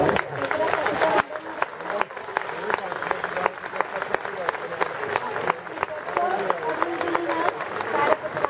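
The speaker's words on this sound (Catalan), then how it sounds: "us demano un fort aplaudiment per nostres músics" Audience applause for musicians at a commemorative traditional dance performance in Sóller: a sustained, dense burst of clapping from a crowd that holds steady throughout.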